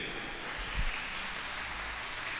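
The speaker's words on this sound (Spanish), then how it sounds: "Vamos a darle un aplauso fuerte." Brief audience applause, a steady wash of clapping from a crowd that stays even in loudness for a couple of seconds.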